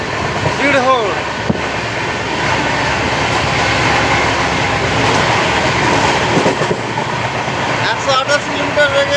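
The 12178 Mathura–Howrah Chambal Express runs at around 108 km/h through the Chambal ravines, a loud continuous roar of wheels and rushing air with rattling carriages and brief squealing tones, heard from on board.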